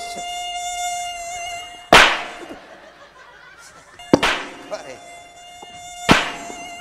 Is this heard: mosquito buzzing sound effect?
yes